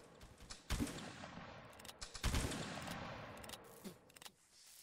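Bursts of gunfire from a video game, including a couple of sharp, heavier blasts and scattered rapid shots between quieter stretches.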